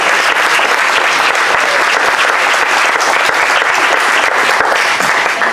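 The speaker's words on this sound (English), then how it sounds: "So please, a big round of applause for Margo." An audience in a lecture hall applauds designer Margo Chase as she is introduced, a loud, dense, sustained wave of clapping from a large crowd that holds steady throughout.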